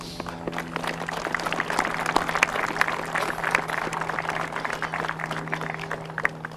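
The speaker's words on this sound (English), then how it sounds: "So I'd like to give him a round of applause as well." A crowd at a Veterans Day ceremony claps in a sustained round of applause, moderately distant, the scattered hand claps blending into a soft, steady patter.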